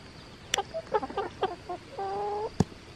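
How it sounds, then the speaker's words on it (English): A small chicken clucks in short, close bursts, one drawn-out vocal call near the end, with a couple of sharp knocks or taps around it in a quiet outdoor space. "And that's my little chicken."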